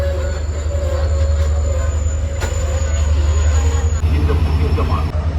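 A train stands at Mankulam railway station in Sri Lanka on the Jaffna–Colombo line, giving a loud, close, steady engine drone with a thin high whine riding over it.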